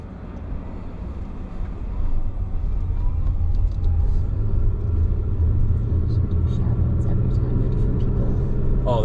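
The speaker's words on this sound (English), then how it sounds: "I'll let this white car get by us, and then we'll head back up" A white car drives past on a rural Tennessee road near Suck Creek Mountain, its tire and engine rumble swelling from close by under steady low road noise inside the vehicle, with faint talk nearby.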